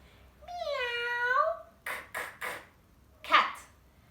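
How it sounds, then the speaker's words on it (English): A single drawn-out cat meow, clear and close, followed by a few short spoken syllables. "Our main pet for this week is the cat. Meow."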